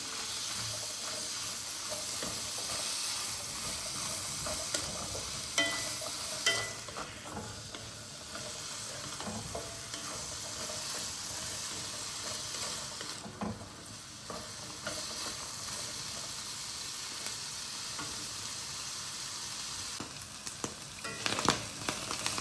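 Boiled white chickpeas roasting in melted butter in a pan, a soft continuous sizzle with stirring scrapes and a few louder clatters, quiet and without talk.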